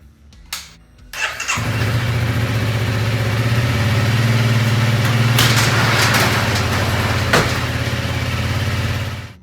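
A Honda CRF 300 L motorcycle starts after a few clicks and a brief crank, then settles into a steady, close, loud single-cylinder idle as it warms up.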